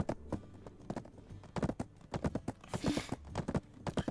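Horse hooves clip-clop in a steady, brisk walking rhythm in the video game Black Desert, close and clear, with a brief whooshing swell partway through.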